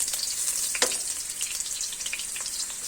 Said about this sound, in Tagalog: Gisa-gisaan ko yung sibuyas tapos pang topping